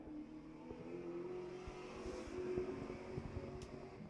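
Number 7 race car on a qualifying lap at Agassiz Speedway, its engine a steady, moderately distant drone holding pitch throughout with a faint rise near the end, no voices over it.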